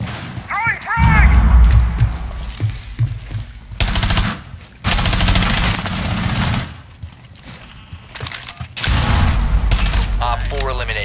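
A frag grenade blast and gunfire in the video game Rainbow Six Siege, with heavy booming bursts and rapid shots in several loud clusters separated by quieter gaps, plus brief electronic game tones.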